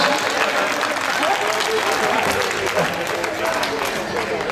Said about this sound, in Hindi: समझ में आई हो तो ताली बजा कर बताओ मुझे।